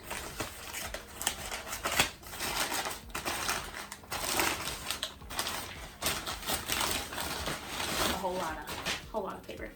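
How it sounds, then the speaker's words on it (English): Crinkly paper wrapping is pulled and crumpled off a flower shop bouquet, with bursts of rustling and crunching in an uneven rhythm close by, while a person talks over it. "So we're gonna unwrap these."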